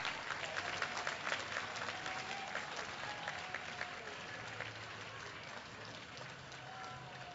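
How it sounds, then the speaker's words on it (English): An audience at a llama costume competition at the Minnesota State Fair claps steadily in a continuous round of applause, loud at first and slowly easing off, with faint crowd murmur underneath. "One more round of applause for Catherine Tome, Clarissa"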